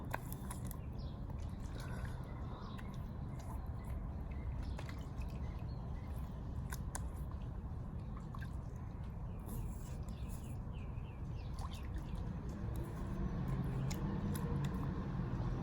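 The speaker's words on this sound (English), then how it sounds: "Break up some of these soap chunks here in the water, rinse off." Chunks of shaving soap are broken up and rinsed off in water, giving faint, close drips, splashes and squishy sloshing against a steady low background hum.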